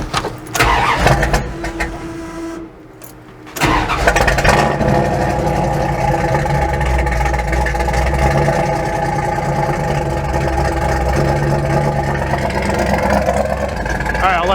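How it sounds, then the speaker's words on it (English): A truck engine fitted with Holley Sniper EFI cranks, then starts at about three and a half seconds and settles into a loud, steady idle with a deep rumble, while people talk near it. "So I'm gonna start the engine up, let it run, and let it get up to temperature"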